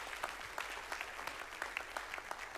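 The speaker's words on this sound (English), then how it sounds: "Let's give this man a applause as he comes tonight." An audience gives steady, even applause to welcome a man coming up to share his testimony, many hands clapping at a close, constant level with no talking over it.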